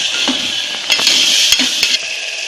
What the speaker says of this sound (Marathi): जरा 2 मिनिट परतून घेऊया आपण,